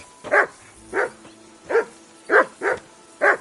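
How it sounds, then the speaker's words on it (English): A dog barks six times in an uneven rhythm, each bark short and fairly loud at close range, with brief quiet gaps between them and no talking. "Get that mutt of yours to stop barking, will you?"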